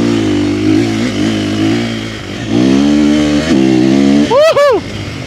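A 450 motorcycle engine runs close by, idling and rising in a few revving swells with a steady mid-pitched drone, ending in a couple of quick throttle blips.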